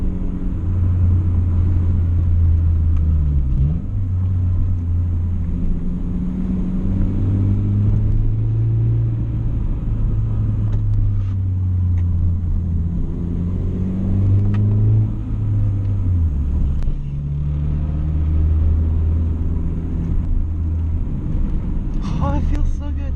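A 2012 Honda Fit with aftermarket engine mount and rigid collars, its engine droning steadily from inside the cabin on a spirited drive, the pitch rising and falling through gear changes as someone talks over it throughout.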